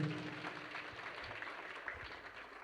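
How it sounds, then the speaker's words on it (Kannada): Applause from an audience at a Kannada devotional purana recitation, a steady broadband patter of clapping that stays fairly faint and even throughout, with no voices over it. "ಜೋರಾದ ಚಪ್ಪಾಳೆಗಳು."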